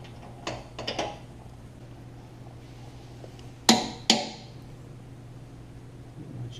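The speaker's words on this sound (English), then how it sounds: "Once you hear that click, you've hit your torque." A torque wrench tightens a step bar mounting bracket on a Toyota 4Runner frame to 64 foot-pounds, giving two sharp, close metallic clicks about half a second apart after some lighter handling taps.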